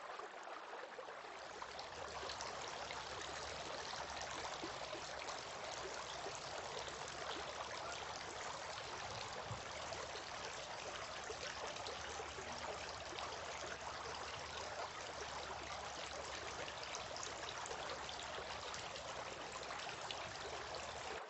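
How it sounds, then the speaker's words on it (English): Steady running water poured and splashed while washing the forearms during ritual ablution, a continuous close trickle-and-stream wash lasting throughout with no talk. "washing the forearms."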